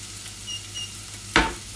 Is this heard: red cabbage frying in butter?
yes